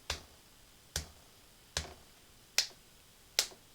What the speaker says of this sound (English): And she's clapping.